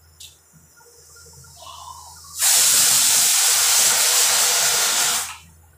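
A pressure cooker whistle gives one loud, sustained hissing blast of steam for about three seconds, then cuts off, set against a quiet kitchen background.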